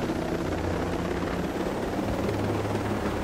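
Helicopter in the video game Ghost Recon Wildlands: a steady, loud rotor thrum and engine drone holding evenly throughout, no speech.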